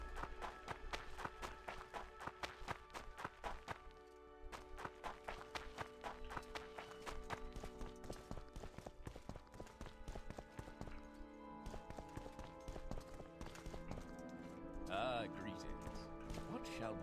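Footsteps on dirt in the video game Morrowind, a steady run of soft repeated steps layered over game music, with a voice talking over them.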